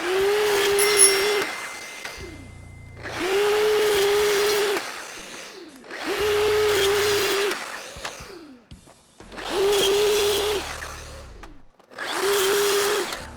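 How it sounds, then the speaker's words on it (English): Miter saw slicing quarter-inch plywood into 12-inch squares, five loud whining cuts in a steady rhythm, each spinning up, biting through the sheet and winding down, with short pauses between. "here over at the miter saw, I'm just going to try to get as many 12 by 12 pieces as I can"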